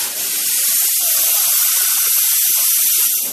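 Steam jets from a pinhole leak in a steam line in an underground space, a loud, steady, close hiss that holds without a break.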